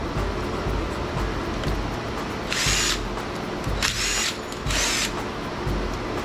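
Power drill spinning a magnetic nut driver bit in a shop, three short whirring bursts in a row over steady background noise, with faint tool handling between them.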